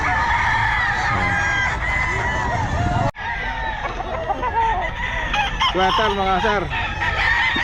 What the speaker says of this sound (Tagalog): ang daming manok oh